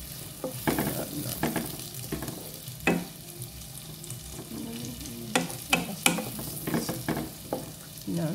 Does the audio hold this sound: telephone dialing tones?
no